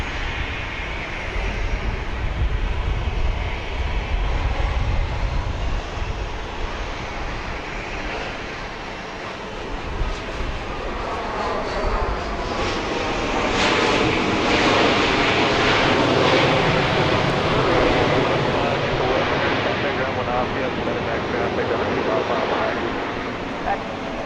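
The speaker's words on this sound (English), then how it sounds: "We've got another Southwest plane arriving here." A Southwest airliner arrives at Dallas Love Field at night, its engine roar and whine swelling over the runway and then fading, with a person talking over the sound.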